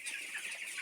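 Chickens cluck and chatter softly together inside a farm coop, a continuous overlapping murmur of short calls heard at moderate distance, with no voices.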